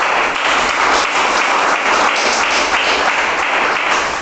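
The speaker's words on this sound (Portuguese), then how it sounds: "dê aquela linda salva de palmas para Jesus" A church congregation breaks into sustained, loud applause, a dense even wash of clapping filling the room for several seconds with no talk over it.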